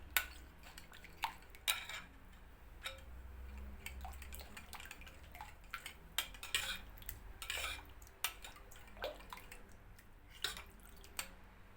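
A utensil scrapes and taps against a pan while tomato paste sauce with butter is stirred for a tray kebab, in scattered clicks and soft squishes, close and quiet.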